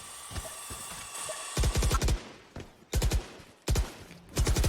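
Rapid gunfire bursts from a Valorant match pre-fire repeat in several tight volleys of quick, punchy shots, loud and close over a busy game background, with no talking.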